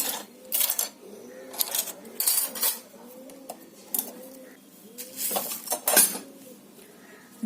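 A knitting machine works green yarn with a quick, repeating metallic clatter of carriage passes and hook clicks, fairly close and alone.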